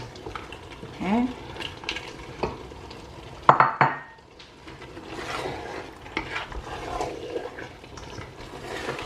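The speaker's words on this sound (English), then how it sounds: "Be gentle when you're stirring your stew because of the crab." Okra stew with crab stirred gently in a pot, soft scraping and liquid movement with a brief clatter of utensil on the pot midway, fairly quiet and close.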